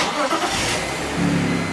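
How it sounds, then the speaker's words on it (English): A BMW 3 Series car engine, E30, E36 or E46 generation, cranks and catches in a brief start, a dense mid-range rumble rising into a steadier, louder run near the end. "You can even try starting the car."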